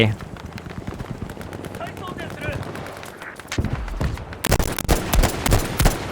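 Heavy gunfire in the video game Battlefield V, with rapid machine-gun bursts and loud booming shots, growing denser and harsher toward the end, layered over in-game noise.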